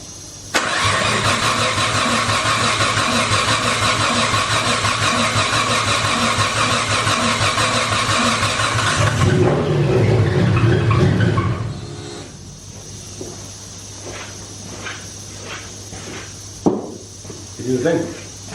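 Engine cranks and starts, then runs loud and steady for about nine seconds before being shut off and winding down, followed by people talking close by.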